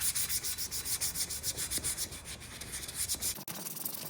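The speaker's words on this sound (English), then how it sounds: "once you apply the acetone and use that wire wheel or wire brush, it is going to make quick work of it" Steady, loud abrasive rubbing and scraping with a rhythmic pulsing as a wire wheel brushes glue off a chair, running continuously without talk.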